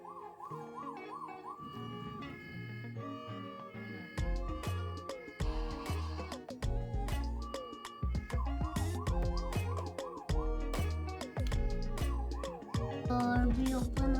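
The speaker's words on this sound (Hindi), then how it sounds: "इसके सायरन्स भी ऑन होते थे," A toy ambulance plays its electronic siren sounds, cycling through wailing and yelping patterns with sharp rhythmic bursts, fairly close and continuous with no talking over it.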